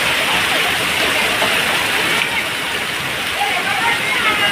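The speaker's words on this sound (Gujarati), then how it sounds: "ધોધમાર વરસાદ પડે છે." Heavy rain pours down in Chhapi village, a dense, steady hiss of downpour filling the whole stretch at an even, fairly loud level with no clear breaks.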